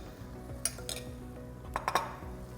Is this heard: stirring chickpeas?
yes